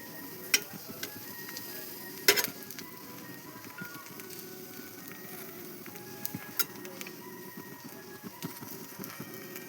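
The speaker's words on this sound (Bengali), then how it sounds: "ভালো করে লো ফ্লেমে ভেজে নেব।" Bhetki fish paturi fries gently on a low flame in a home kitchen, a steady soft sizzle with occasional small ticks and clicks from the pan.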